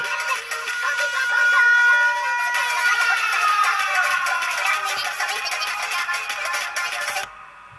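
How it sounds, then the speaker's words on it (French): An electronic siren sound effect triggered in VirtualDJ software wails with rising and falling tones, loud and continuous for several seconds before it cuts off abruptly. "On peut aussi ajouter une sirène en appuyant sur la sirène."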